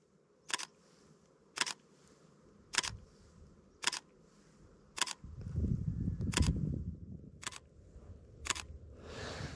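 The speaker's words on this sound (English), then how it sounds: "Nine shots stitched together." A camera shutter clicks nine times at a slow, even pace while shooting a 24 mm panorama sequence, each sharp snap distinct and close, with a brief rustle of movement in the middle.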